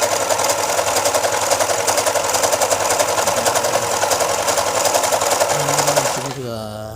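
A portable overlock sewing machine, just repaired after failing to form stitches and bending needles, runs a loud, fast, steady test stitch for about six seconds, then winds down and stops.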